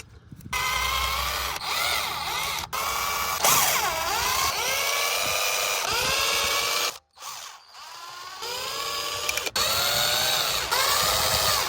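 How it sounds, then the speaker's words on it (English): A power tool, likely a cordless drill or impact driver, spins out 10mm valve cover bolts on a Honda/Acura 3.2 J-series V6, with bursts of whirring and ratcheting close up, separated by short pauses, and no talking. "Now we're ready to remove all of these bolts. These are 10mm."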